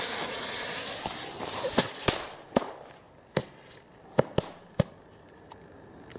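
Frosch jumping firecrackers go off in a scattered string of about eight sharp, loud bangs with uneven gaps and faint hissing between them. No one speaks.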